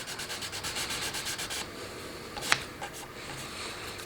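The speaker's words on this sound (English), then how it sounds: "So I'll just even out that scratch pattern with some 800." Solid plastic about an eighth of an inch thick from an old piano being sanded by hand with 800-grit sandpaper: quick rhythmic rubbing strokes at first, then a steadier continuous scrub with one sharp tap, close and fairly quiet.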